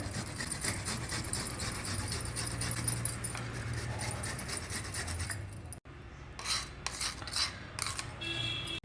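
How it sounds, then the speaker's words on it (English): Fresh ginger, about 5 grams, rasped on a fine grater: steady, close scraping strokes for several seconds, then a short pause and a few lighter scrapes. "I am using my fine grater, so then it is as good as crushed ginger."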